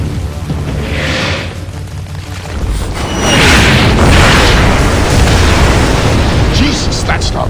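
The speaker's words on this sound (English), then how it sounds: "Jesus, that's not mortar fire. Sounded like Katyushas." Katyusha rocket explosions in the video game Splinter Cell Blacklist, a series of deep booming blasts with rolling rumble, loud and close, mixed with game ambience.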